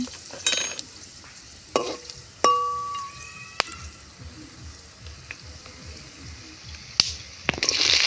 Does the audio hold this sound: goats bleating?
no